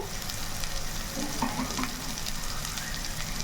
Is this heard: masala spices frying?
yes